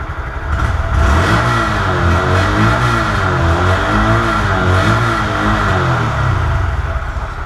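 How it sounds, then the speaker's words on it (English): A 2017 Honda Grom small motorcycle engine revs up and down repeatedly, its pitch climbing and falling in loud, close bursts over a steady idle, with no talking. "let's rev it up and see how mean these things can get"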